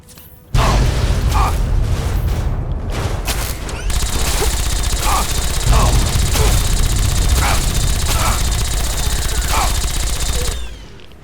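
Sustained combat gunfire from Fallout 3 rattles in dense, loud bursts, with automatic fire and sharp shots layered over a constant roar of battle for several seconds.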